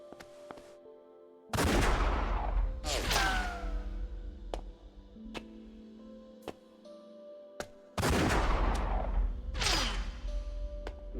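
Gunfire in the video game Like a Dragon: The Man Who Erased His Name, with two loud booming blasts that ring out, plus sharp single cracks and ticks between them, no talking.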